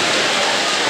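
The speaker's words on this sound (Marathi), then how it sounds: "इतका जोरदार पाऊस चाललेला आहे" Heavy rain pours down outdoors as a loud, dense, continuous hiss of drops striking surfaces close by.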